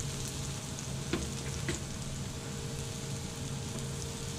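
Shallots sauté in a pan over moderate heat, giving a steady, even frying sizzle with a couple of faint clicks of utensil contact, close and continuous, with no talking.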